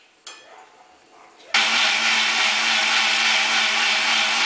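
Kitchen mixer grinder grinding fried spices with coconut and curry leaves into a fine paste starts abruptly after a brief rattle, then runs as a loud, steady, high-pitched whir.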